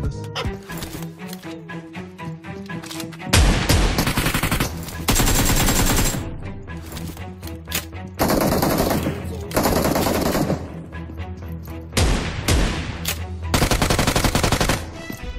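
Bursts of automatic gunfire from the mobile battle-royale game PUBG Mobile, loud rapid volleys repeating in several stretches over steady game music, with no talking.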